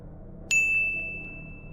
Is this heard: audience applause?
no